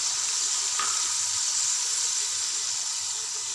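Chopped tomatoes and green chillies drop into a hot pan of keema for pulao, giving a steady, close, bright sizzle with a brief splash of added ingredients near the start and no talking.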